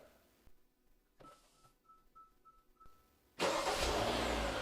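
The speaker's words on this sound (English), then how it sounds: "And here you go, the car started." A 2013-2018 Hyundai Santa Fe fitted with a MyKey Premium remote starter gives a quick series of short electronic beeps, then its engine cranks and catches into a loud, steady idle close by, with no talking.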